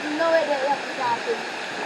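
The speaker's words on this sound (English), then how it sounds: "See water, see falls there, brother." A waterfall in the hills of Portland, Jamaica gives a steady, even rush of falling water, close and fairly loud, with a voice heard faintly over it.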